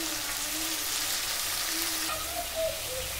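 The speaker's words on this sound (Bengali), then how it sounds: "এটাই কষিয়ে নেবো।" A paste of tomato, green chilli and cumin spices frying in a pan gives a steady, close hissing sizzle throughout, with no speech.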